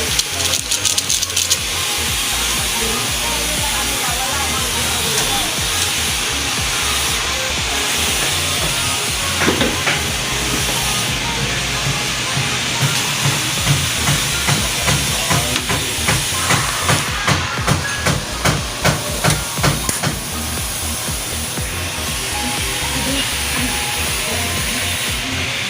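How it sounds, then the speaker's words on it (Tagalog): Pot of paksiw stew boiling, a steady steam hiss with bubbling and faint rhythmic rattling of the lid, close and continuous without voices. "Kumukulo na po ang ating paksiw."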